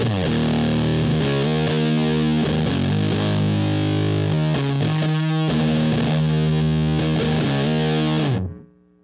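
Electric guitar through a Way Huge Russian Pickle distortion pedal playing sustained, fuzzy chords and notes, thick and loud, ringing out and then cut off abruptly near the end.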